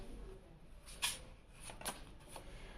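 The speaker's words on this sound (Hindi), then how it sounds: "और ये भाई कार्ड तो शफल करने दीजिए।" Tarot cards being shuffled by hand, a few soft riffling bursts close by against a quiet room background, with no talking.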